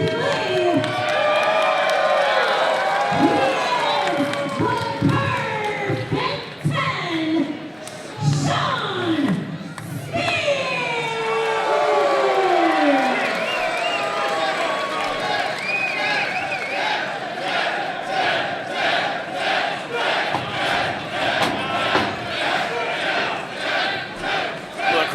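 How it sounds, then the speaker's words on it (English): An indoor wrestling event crowd roars and cheers, with scattered shouts and rhythmic chanting or clapping toward the end, under an announcer's amplified commentary. "Crowd's firmly behind Shawn Spears."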